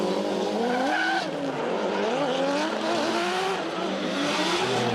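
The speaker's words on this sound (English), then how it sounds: "that car of Bo's sounds absolutely nuts." An SR20-powered Nissan S13 drift car screams at high revs through a competition battle, engine note rising and falling continuously with tire squeal, loud and sustained throughout.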